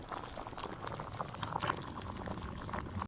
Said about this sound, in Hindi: आप देख रहे हैं कढ़ी में कितना अच्छा उबाल आ गया है।